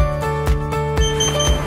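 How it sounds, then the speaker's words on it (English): An OZFL-402-F fingerprint door lock gives a series of sharp electronic beeps, about four evenly spaced tones in under two seconds, loud and close with no other sound. "You will hear a long beep sound with the unlocking indicator light on."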